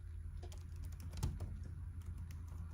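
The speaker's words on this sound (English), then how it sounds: "So I'm typing Deion Sanders" Faint, scattered clicks of typing on a computer keyboard, a few soft keystrokes over a low steady hum with no talking.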